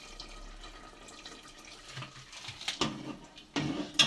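Milk poured into a pot of simmering drumstick curry, a soft liquid splash that builds toward the end with a few louder gushes and clatters, close by and without talk.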